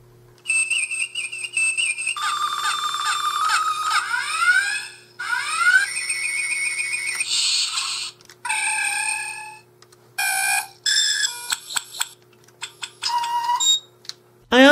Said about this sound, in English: it will emit one of 9 classic sound effects from the original series